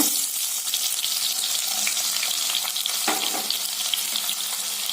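Mustard seeds and cumin spluttering in hot oil in a pan, a steady close sizzle with small pops and crackles throughout, no voices.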